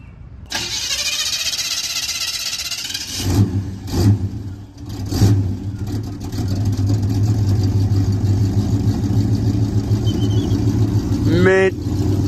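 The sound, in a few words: Chevrolet El Camino with 350 V8 engine starting and running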